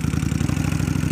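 A Kawasaki Vulcan 1500 motorcycle engine runs close by with a loud, steady low pulsing throb and no talk over it.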